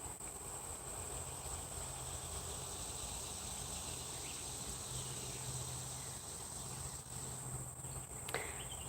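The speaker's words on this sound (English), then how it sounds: "Can y'all hear the birds and the cicadas?" Steady outdoor insect drone of cicadas or crickets fills the scene at a soft, distant level, with a faint high whine and occasional bird chirps barely rising above the continuous buzz.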